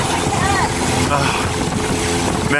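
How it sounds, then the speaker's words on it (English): Heavy rain pours onto a fishing boat out on the open ocean during a tropical storm off Raja Ampat, Indonesia, a dense, loud, unbroken roar mixed with engine drone and wind, with a voice speaking over it. "I've never been on a boat like this in the middle of the ocean, pouring down with rain."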